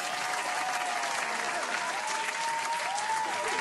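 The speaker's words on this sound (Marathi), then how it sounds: "याच्यासाठी टाळ्या वाजवा सगळ्यांनी" A village crowd at a Shiv Jayanti celebration claps steadily and densely for a child's speech, with faint voices mixed into the continuous applause.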